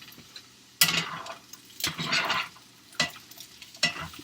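Potatoes frying in a pan over medium heat, a soft sizzle broken by a few loud, sharp bursts of crackling spaced about a second apart.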